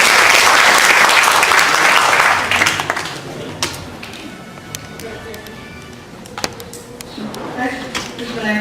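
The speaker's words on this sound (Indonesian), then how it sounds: "Tepuk tangan dulu untuk Anda." Audience at a leadership forum in Bandung breaks into loud, full applause that dies away after a couple of seconds, leaving scattered claps, taps and room noise with a voice speaking afterward.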